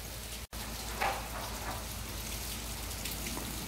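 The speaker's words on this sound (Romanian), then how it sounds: "Dar plouă. E soare, plouă, e soare." Rain falling outdoors at a wedding: a steady, soft patter of drops on surfaces, continuous and fairly faint, with a brief dropout near the start and a slightly louder splash just after.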